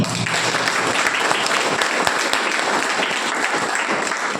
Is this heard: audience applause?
yes